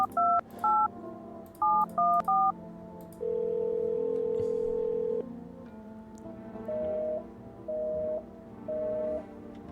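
Touch-tone telephone keypad dialing inside a video game: short paired DTMF beeps in quick bursts, a longer held tone, then three evenly spaced single tones, loud and close with no talking.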